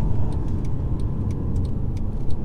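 From inside a 2013 Mercedes C350 diesel car being driven hard, the engine and road noise make a steady, fairly loud low rumble, with light ticking sounds scattered over it and no speech.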